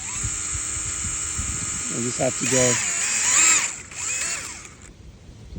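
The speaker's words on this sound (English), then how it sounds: "So I'm gonna use my drill to drill into this." A small power drill whines steadily while boring into a thin green plant stem, a high continuous motor tone heard close up, with a person talking over it partway through.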